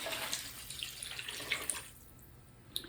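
Homemade chicken stock, four cups, pours into a slow cooker for Cajun 15 bean soup, giving a steady liquid splashing and trickling with small drips and clinks, fairly faint and close, without any talking.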